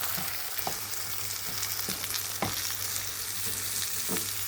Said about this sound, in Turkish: Şimdi kavrulan soğanlarımıza pirincimizi ilave ettim.